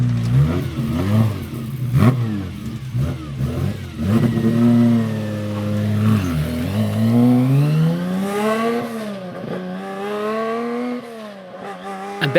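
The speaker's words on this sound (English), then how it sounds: "there goes the Stratos into the distance" A classic Lancia Stratos engine revving hard as the car drives past at speed, rising and falling through several gear changes, loud and close before fading into the distance.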